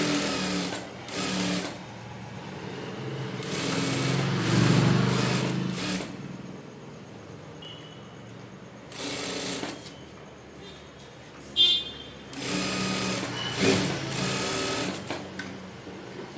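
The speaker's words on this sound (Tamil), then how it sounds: "இப்போது வந்து ஊசி இட தையல் போட்டுக்கலாம்." A sewing machine runs in several steady bursts, stitching a blouse lining and main piece together, its rapid needle chatter loud and close with short pauses between runs.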